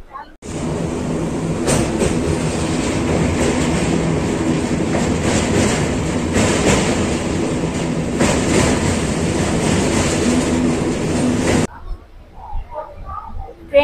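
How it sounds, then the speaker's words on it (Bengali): Passenger train on the Howrah to Jhargram run via Kharagpur, heard from inside as a steady loud rumble with rhythmic wheel clatter lasting about eleven seconds before cutting out, then quieter background sound. "ট্রেন ছাড়লো 6:20-তে।"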